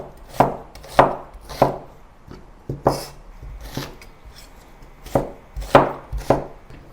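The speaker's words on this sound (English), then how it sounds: "Cut the onions into large chunks." Knife chopping onions into large chunks on a cutting board for a Chinese chicken curry paste, about a dozen sharp close thuds in uneven bursts with short pauses between, no talking.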